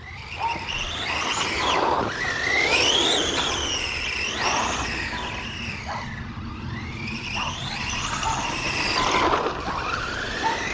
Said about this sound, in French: Elle fait un peu du bruit par contre.